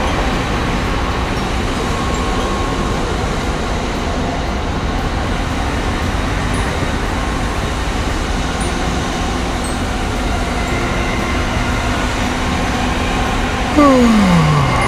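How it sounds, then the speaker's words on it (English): Steady low rumble and rattling inside a moving train in Sapporo heading to the airport, with a constant wash of mechanical noise and a brief falling whine near the end. "Sa train na kami."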